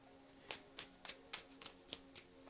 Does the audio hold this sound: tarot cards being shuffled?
yes